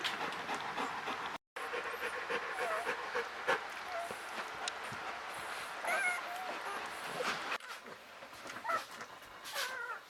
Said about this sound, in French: Voici les contractions d'expulsion du quatrième chiot.